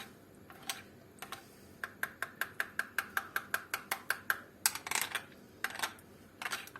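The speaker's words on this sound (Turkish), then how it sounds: "Terbiyemi karıştırıyorum biraz sıcak suyla." A spoon clinks rapidly and rhythmically against the side of a pot as an egg-based soup thickener is mixed with hot water, a steady run of bright metallic taps at close range.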